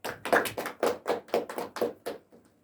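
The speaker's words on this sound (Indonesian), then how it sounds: "Kita beri aplaus untuk Bapak Eka" A small group applauding for Bapak Eka, eight or nine distinct clap bursts in a steady rhythm that fade off at the end, fairly close with no talking.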